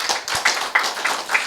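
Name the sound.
audience applause of congratulation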